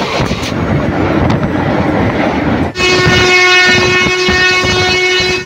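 Ranaghat–Lalgola MO special train passing close by. Loud rolling rumble and wheel noise give way midway to a long, sustained blast of the horn that carries to the end.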